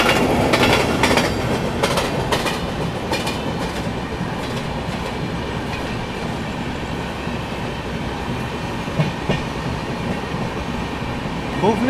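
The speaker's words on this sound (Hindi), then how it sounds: "भुवनेश्वर तेजस राजधानी, भुवनेश्वर और न्यू दिल्ली के बीच में चलने वाली भाई, क्या मारा है यार ओवरटेक" The Bhubaneswar Tejas Rajdhani express roars past on an Indian railway line, a loud continuous rumble with rhythmic wheel clacks and bursts of clatter close by. Faint voices sit under the din.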